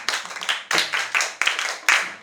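A classroom of students claps for a classmate in short, rhythmic bursts of hand claps, close and fairly loud, in a quick ragged pattern.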